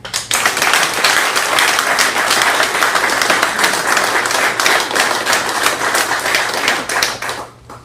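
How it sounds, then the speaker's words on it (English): A crowd at a BC Summer Games hosting announcement for Maple Ridge breaks into sustained applause, dense steady clapping filling the room for several seconds before tapering off at the end. "So that's a round of applause for that"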